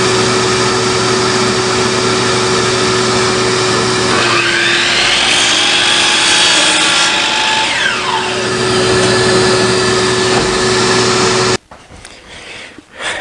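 A power saw cuts wood along a drawn line to make a pet ramp. It runs at a loud, steady whine for about eleven seconds, and its pitch shifts as the blade works through the board. Then it cuts off abruptly and a few quiet handling sounds follow.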